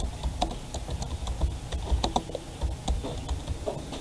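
Typing on a computer keyboard, an irregular patter of light clicks and taps close to the microphone over a faint background hum, with no talking.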